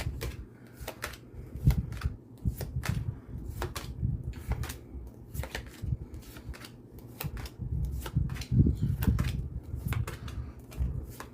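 A deck of tarot cards is shuffled by hand, giving a steady run of crisp riffling snaps and taps, close and fairly loud, with no talking.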